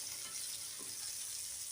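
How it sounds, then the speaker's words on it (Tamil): Shallots sautéing in a pan for a chicken curry give a steady, soft sizzle that holds evenly throughout, close and fairly quiet, with no voices. "வெங்காயம் வதங்கட்டும்"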